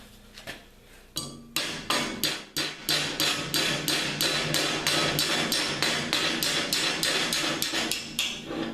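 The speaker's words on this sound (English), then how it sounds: "I'm gonna tap that" A small hammer taps repeatedly on metal held in a sturdy vise, sharp ringing strikes in a quick steady rhythm, close and fairly loud, after a few slower initial hits.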